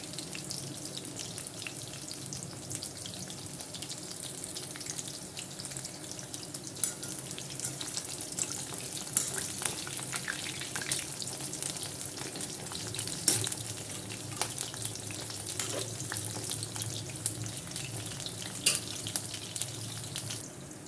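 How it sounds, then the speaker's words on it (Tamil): Soya chunks for meal maker 65 fry in hot oil, a soft, steady sizzling hiss with faint crackles throughout, heard quietly on its own. "மிச்சம் உள்ள மீன் மேக்கரும் இந்த மாதிரி எல்லாம் பொறிச்சு எடுத்துக்கலாம்"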